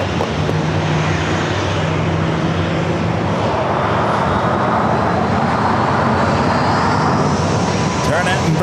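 A Southwest airliner taking off from runway 27 at San Diego, a loud, sustained jet engine roar building and holding throughout, with a radio voice speaking over the noise.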